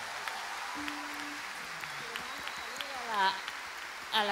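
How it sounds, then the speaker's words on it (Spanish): A Puerto Montt audience gives a respectful round of applause on a Chilean show, a soft, even rush of clapping kept in the background while voices speak over it. "este es el aplauso respetuoso del Puerto Montt para ti"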